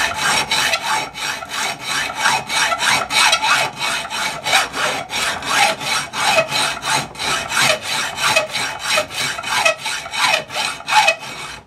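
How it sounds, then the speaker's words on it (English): A hacksaw cuts a metal barrel for a hand engraving machine held in a vise, loud and close, with even back-and-forth rasping strokes repeating in a steady rhythm throughout. "Now I'm going to start hacksawing."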